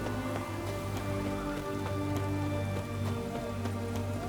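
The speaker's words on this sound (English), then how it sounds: "What a downpour." Heavy, steady rain in The Witcher 3: Wild Hunt pours continuously, with scattered sharper drips and patters standing out over a dense wash of noise and a low droning hum underneath.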